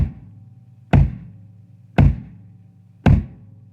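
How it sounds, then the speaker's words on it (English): Three deep, booming kick drum hits from a pedal-played bass drum, spaced about a second apart, each a solid thud with a short ringing decay, played alone. "If you're playing the bass drum, it'll sound like this."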